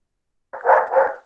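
Thor the dog lets out a close, muffled double bark, two quick woofs run together after a moment of silence, then fading out.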